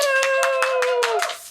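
A studio show audience gives brief applause as about seven or eight clustered bursts of clapping and cheering, close and loud, before cutting off.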